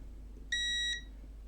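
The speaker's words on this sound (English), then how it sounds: "Now this to the ground, that's a beep." A multimeter continuity-test beep on a Nintendo 3DS charging port repair sounds once as a steady high electronic tone of about half a second, over a low hum.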